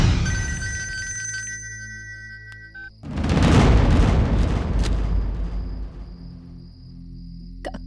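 A telephone rings in a domestic drama scene, its repeated electronic tones sitting over music, then a loud booming dramatic sting cuts in and fills the rest of the moment.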